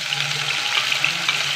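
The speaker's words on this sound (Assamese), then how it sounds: "আৰু তেলখিনি গৰম হোৱাৰ লগে লগে প্ৰথমে শুকান জলকীয়া এটা দিছোঁ।" A dry red chili hits hot oil in a wok for a tomato and rohu fish curry, giving a steady, close sizzle and crackle with no talking.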